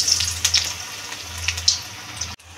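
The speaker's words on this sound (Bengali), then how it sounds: "এখন আমি কড়াইয়ে ভেজে নেব তেল গরম করে।" Sesame and poppy seed fritters frying in hot oil in a wok, a close, continuous bubbling sizzle with small crackles, cutting off abruptly just before the end.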